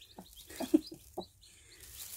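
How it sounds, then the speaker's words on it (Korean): A Cheonggye hen and her many naturally hatched chicks cluck and peep inside a small plastic-covered shed, a few soft, close clucks and short chirps in a quiet space. "병아리들이 너무 많이 나왔어요"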